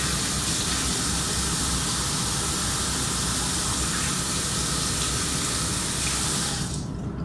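Tap water runs steadily into a sink while carrots are washed, a loud, close, continuous rushing hiss with no talking that cuts off abruptly near the end.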